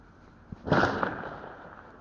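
A single sharp crack followed by a loud, echoing blast of gunfire that rings out and slowly decays, heard from some distance, from a police shootout captured on an officer's body-worn camera in Phoenix, Arizona.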